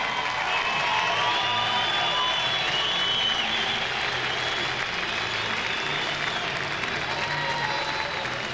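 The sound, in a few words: crowd applauding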